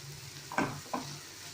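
Sautéed arai keerai greens mixed with ground coconut stirred in a pan, heard as two quick scraping stirs over a soft sizzle, close by, with no talking.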